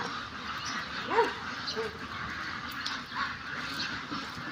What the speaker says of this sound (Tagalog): Peking duck po ito.